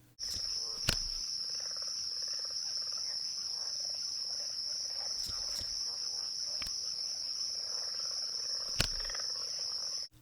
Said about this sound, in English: I think cicadas and birds chirping